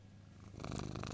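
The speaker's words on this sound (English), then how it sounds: "we are now being joined by my lovely cat, Jessie." A house cat purrs up close, a soft rhythmic rumbling that starts faint and swells into a steady pulsing purr with no talk.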